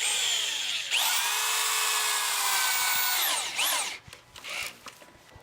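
A power drill drives long GRK screws into wood, its motor whining loud and close for a few seconds before slowing and stopping, followed by a few short bursts and clunks as the screw seats.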